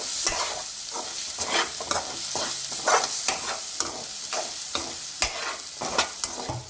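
Ginger garlic paste sizzles in a hot pan while being stirred, with steady frying hiss and regular scraping strokes of a spoon every half second or so, close and moderately loud, no voices.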